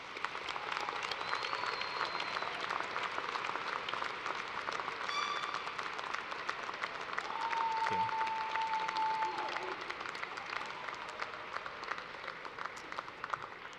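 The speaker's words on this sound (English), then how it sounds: "Graduates, please join me now in giving a round of applause to thank these family members, friends, and loved ones" Graduates and guests at a University of Toledo commencement ceremony give a sustained round of applause, an even, moderately distant wash of many hands clapping that swells slightly midway and carries on for about fourteen seconds.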